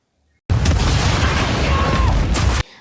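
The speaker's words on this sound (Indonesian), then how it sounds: "Tepat sebelum pesawat meledak, Stone berhasil menyelamatkan diri" A plane explodes in a film action scene, a loud, sustained roaring blast with a broad rumble that lasts about two seconds and then cuts off abruptly.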